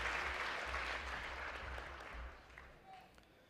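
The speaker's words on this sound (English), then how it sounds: "I think they all deserve a special round of applause." Large audience applauding children at a musical tribute and research institute inauguration, dense continuous clapping that gradually thins and fades toward the end.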